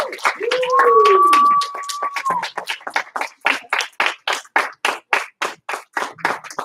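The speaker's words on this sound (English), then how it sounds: "Everybody give him a huge round of applause." A crowd claps steadily in applause, starting in a dense wash and settling into a rhythmic unison clap, with a voice briefly over the start.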